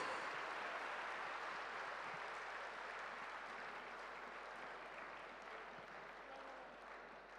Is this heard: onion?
no